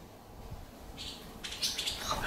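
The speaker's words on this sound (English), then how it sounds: "Oh, those are birds right there." Faint bird chirps and tweets rising over quiet background noise, getting a little busier toward the end.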